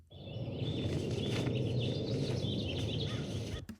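Birds chirp faintly and on and off over a constant roar of wind whipping a flag, set behind footage of a 2022 Audi RS3.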